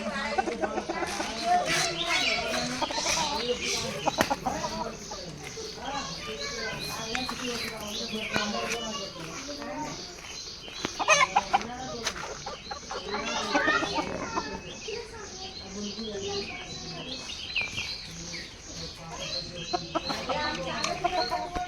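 Country chickens kept in a cage cluck on and off beneath continuous talk and lively children's voices, their calls mostly mid-distance and partly masked.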